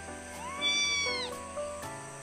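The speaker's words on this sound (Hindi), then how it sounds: "अभी अभी मेरे पास एक छोटी सी बिल्ली है जो बहुत ही ज़्यादा चिल्ला रही है" A small cat meows loudly and insistently, several drawn-out, rising and falling cries close to the microphone with short pauses between them, with no other sounds.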